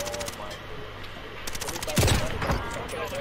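Gunfire in the Warzone battle royale, with a sniper rifle in play: a few sharp, loud shots stand out near the end over a busy bed of game noise, with voices nearby.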